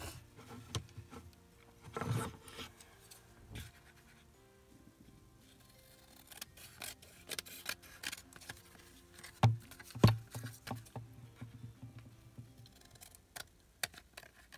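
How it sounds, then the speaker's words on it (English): Scissors trimming around the outside of a paper tag made from scraps, quiet intermittent snips and rustles of paper with short pauses, close and faint. "I'm going to go ahead and trim around the outside of this."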